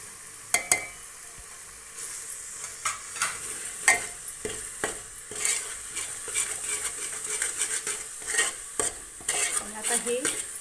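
Chickpea masala with dry spices is sautéed in a pan, with a run of sharp spoon-on-metal scrapes and knocks over a low, even sizzle; close and rhythmic, with no voices.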